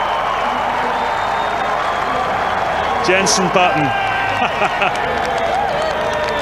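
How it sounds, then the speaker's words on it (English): At the 2004 Malaysian Formula 1 Grand Prix, a race crowd cheers and applauds at the podium, a steady wash of clapping and whoops under continuous commentary. "the crowd, I have to say here, giving him the biggest cheer of all"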